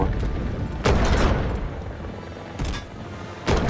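Turret gunfire in the Delta Force video game, several heavy booming bursts spaced about a second apart over low rumbling game noise.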